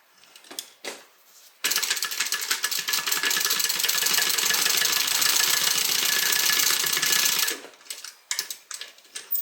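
A sewing machine stitches a tote bag seam alongside Decovil interfacing, running in one sustained burst of fast mechanical whirring after a few short start-up taps, close and steady before stopping.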